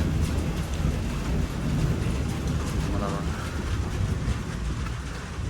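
Steady rain falls at night outside a balcony at a Bhimashankar lodging, a dense, continuous hiss filling the whole stretch with a low rumbling undertone.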